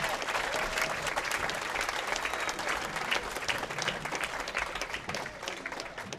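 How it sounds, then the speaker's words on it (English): Sustained applause from a large crowd at the Wisconsin high school bowling championships, steady and dense clapping throughout with a faint murmur of voices underneath. "let's give a round of applause to all the finalists competing here on Championship Sunday"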